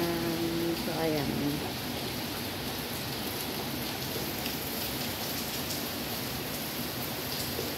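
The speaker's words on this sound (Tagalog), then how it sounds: "maulan na umaga dito sa Singapore guys" Steady morning rain falls in Singapore as a constant, even wash of patter that fills the whole stretch, with a brief tonal sound near the start and no clear talking.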